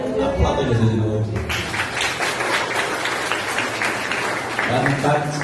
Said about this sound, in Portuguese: Aplauda Jesus de novo.